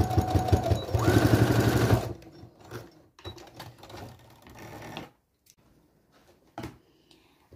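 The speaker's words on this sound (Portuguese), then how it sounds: "Passar uma costurinha aqui." A sewing machine runs in a fast continuous burst while stitching pajama pants, then stops, leaving intermittent fabric handling, clicks and small mechanical taps, close up and with no talking.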